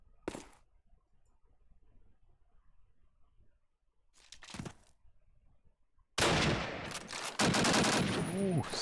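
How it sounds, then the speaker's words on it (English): Gunshots in Call of Duty: United Offensive during a competitive match, a few isolated cracks followed by a loud sustained burst of rapid fire near the end, with faint background between. "Ooh, some missed shots"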